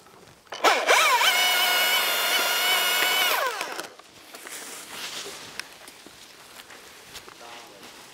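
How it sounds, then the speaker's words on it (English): A chainsaw makes the back cut on a tree during rigging work, a loud steady engine whine that holds for about three seconds before dropping off, followed by quieter rustling and handling noise. "Chainsaw is hot, coming for the back cut."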